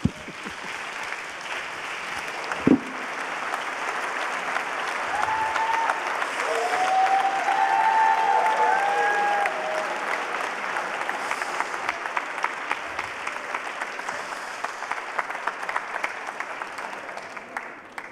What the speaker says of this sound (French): je vous propose de vous lever et de l'applaudir et de le remercier avec moi